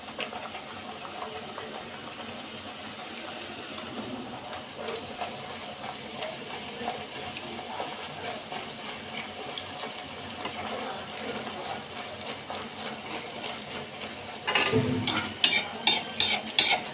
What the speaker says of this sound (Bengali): দেখুন একদম গোল গোল লুচি ছেড়ে দিলাম তেলে।